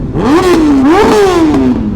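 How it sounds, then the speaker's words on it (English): A Yamaha R15 V3 motorcycle fitted with a replica Akrapovic exhaust revs loudly and close up, with two quick throttle blips rising and falling in a raspy, buzzing tone. "That's the R15 V3 with an Acropovic exhaust."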